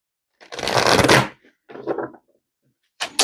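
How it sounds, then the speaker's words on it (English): A stiff, hard-to-handle tarot deck is riffle-shuffled up close, one long loud flurry of card slaps, a shorter second burst, then the start of another. "That is a really bad shuffle."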